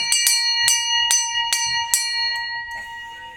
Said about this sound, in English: The ship's bell.